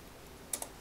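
Two quick, close keystrokes on a computer keyboard, crisp and light, against a faint steady background hiss with no speech.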